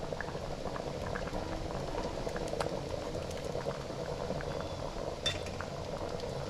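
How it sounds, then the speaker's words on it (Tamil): Egg curry bubbling steadily in a pot, a continuous close simmering burble with small pops throughout and a brief utensil clink near the end, no voices. "முட்டை சேர்த்து குழம்பு வந்து கொதிச்சிட்டு இருக்குது"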